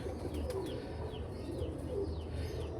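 Pigeons coo softly in Lahore, Pakistan, their repeated low throaty calls recurring over a constant background hum, fairly close but not loud.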